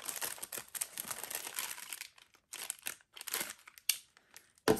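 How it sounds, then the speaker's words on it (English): A small razor blade on a NOVFIT mini handheld bag sealer slices open a plastic snack bag, giving close crinkling and tearing rustles in uneven bursts with short quiet gaps. "So let's say, for example, you want to cut open a bag. You can just cut it open like so."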